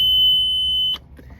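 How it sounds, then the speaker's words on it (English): A Yanmar boat engine's warning alarm sounds as the key is switched on, a loud, steady high-pitched electronic tone held for about a second before cutting off abruptly. "there's going to be a loud alarm."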